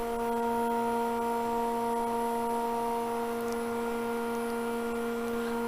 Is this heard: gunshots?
no